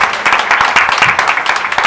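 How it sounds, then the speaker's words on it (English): Enthusiastic crowd applause for event ambassadors at a women's run launch event, loud, dense clapping with sharp individual claps standing out, continuous throughout. "big round of applause"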